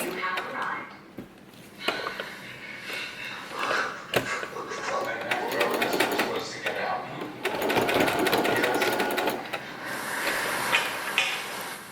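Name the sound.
sewing machine stitching bikini swimsuit straps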